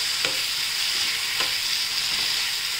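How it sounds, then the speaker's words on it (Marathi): Chopped spinach drops into hot oil and sizzles with a steady, loud hiss that never lets up, with a few faint clicks on top. "आपण चिरून घेतली पालक ती टाकूया"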